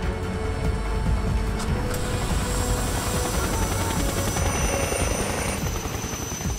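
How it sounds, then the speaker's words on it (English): A helicopter flies close by in an action-film scene. Its rotor makes a dense, steady, throbbing roar that holds at an even loudness for the whole stretch. "Helicopters."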